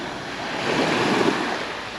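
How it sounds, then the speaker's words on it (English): Small waves washing against the shore just outside a port on the Mallorca coast at Costa d'en Blanes, a steady soft surf wash with wind noise, swelling slightly midway, no voices. "There's a few waves as well."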